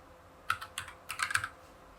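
Computer keyboard keys tapped in two short bursts, quick clustered clicks close by with a brief pause between, quiet and without voices.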